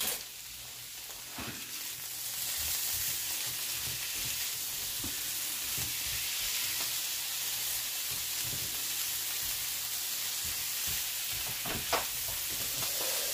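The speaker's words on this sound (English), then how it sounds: "Now I'm throwing in some very finely chopped onion that I did in my food processor." Finely chopped onion frying in plenty of butter with carrots in a pan, a steady soft sizzle with a few faint stirring clicks, alone and fairly quiet throughout.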